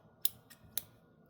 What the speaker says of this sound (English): I'll just be over here cutting twine with my special twine scissors